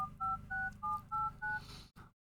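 Touch-tone telephone keypad dialing digit 6, repeating five steady two-note beeps in an even rhythm, each about a quarter second with short gaps, close and clear over a low background hum.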